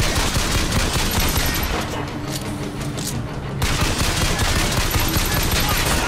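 Enemy gunfire in the video game Bioshock Infinite, dense rapid shots rattling loudly in bursts with a short lull in the middle, game music faintly beneath.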